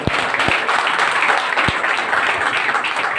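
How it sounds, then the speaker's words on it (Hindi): A hall audience at a meeting gives a loud, dense burst of applause for first-time guests, steady and continuous throughout with no talking. "इनके लिए जोरदार ताली"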